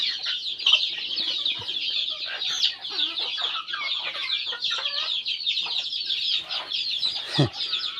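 Dense, continuous clucking from a flock of chickens being fed bottle gourd seeds, close and steady throughout, with one sharper squawk near the end.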